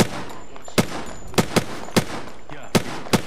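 Sharp single gunshots in a video game, about seven loud cracks fired at irregular intervals over a few seconds against a low background hum.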